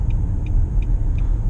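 Nissan Murano engine with the accelerator pedal floored: a steady, loud, low rumble heard from inside the car, with faint ticks repeating at regular intervals above it.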